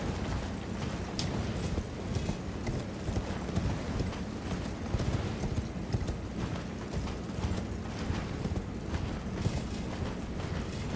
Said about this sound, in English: Can we get on my horse?